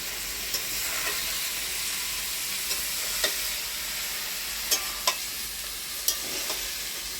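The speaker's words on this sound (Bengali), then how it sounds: "আমি যে এখন এগুলো দিয়ে দিচ্ছি দিয়ে ভালো করে কষাবো" Raw jackfruit pieces stir-fry with spices in a pan, a steady close sizzle and hiss broken by occasional soft scrapes and clicks of the spatula, with no talk.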